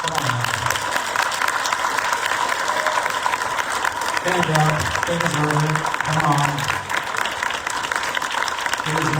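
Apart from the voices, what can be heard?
audience applause for the candidates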